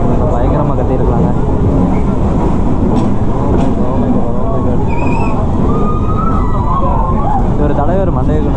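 The Mettupalayam to Ooty train runs through a tunnel, a loud enclosed rumble of wheels and carriages that fills the whole stretch, with a whistle-like tone rising near the end and voices mixed into the din.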